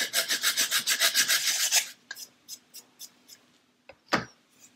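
Quick, rhythmic rasping strokes of sandpaper on the wooden keel of a 1/64-scale model ship, about a dozen in a row, then a few slower, scattered rubs and a final firmer scrape.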